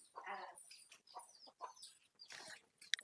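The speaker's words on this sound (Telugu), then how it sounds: "ఈ కోళ్ళు ఆకిట్లా ఆకిటే వస్తున్నాయి" Domestic hens cluck nearby in short, irregular bursts, with a few sharper calls toward the end and quiet gaps between.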